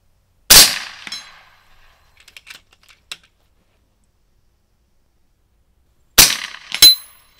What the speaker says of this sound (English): Just hit the gong at 100 yards.